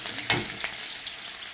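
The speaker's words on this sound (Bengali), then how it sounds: "এর ভিতরে দেবো আমি একটু পেঁয়াজ কুচি, একটু রসুন কুচি। আমি এটাকে একটু লাল লাল করে ভেজে নেব।" Chopped onion and garlic fry in a pan with a steady, close sizzle, cut by a sharp scrape or stir near the start and a softer one shortly after.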